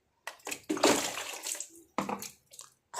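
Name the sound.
water running while washing face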